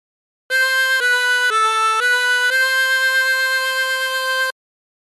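A 24-hole tremolo harmonica plays a short phrase of Aura Lee, a few sustained reedy notes with a shimmering wobble, stepping down and back up before holding a long final tone, clear and alone.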